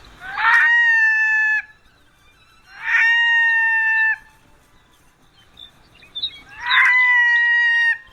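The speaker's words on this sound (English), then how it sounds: "The red-throated loon, a bird with a very red throat when seen in summer up on its Arctic breeding grounds." Red-throated loon, an Arctic-breeding bird, giving three long, drawn-out crying wails, each about a second long and separated by quiet pauses, loud and close with no talking.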